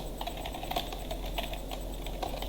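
Steady rapid keystrokes on a computer keyboard while entering network configuration commands, close and clear against a low constant hum.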